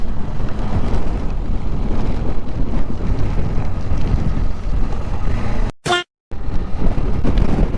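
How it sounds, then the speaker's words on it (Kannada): Strong wind in Munnar roars and buffets the microphone continuously, with a brief dropout of near silence partway through before the gusting resumes. "ಓ ಗಾಳಿ ನೋಡಿ ಹೆಂಗೆ ಇಳಿದಿದೆ ಗಾಳಿ"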